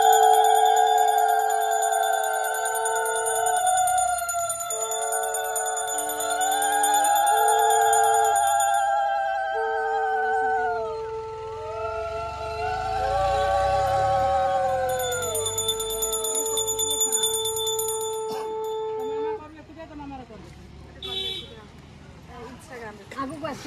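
Bells ring continuously during a Tuesday puja worship for Maa Mangala in the month of Chaitra, bright overlapping tones in a steady repeating pattern, with voices and chanting underneath.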